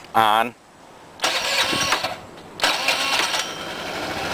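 A Honda Elite 80 scooter engine starts in an alley, with two separate bursts of cranking and catching engine noise, close and fairly loud. A brief voice is heard at the start.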